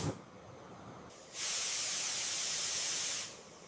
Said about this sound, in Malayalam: കുക്കർ അടച്ച് വിസിൽ വരുന്നവരെ വെയിറ്റ് ചെയ്യാം.